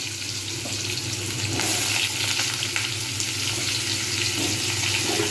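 Potatoes sizzle and fry in hot ghee with panch phoron, dried red chillies and whole garam masala, a steady close crackle with occasional stirring, no talk.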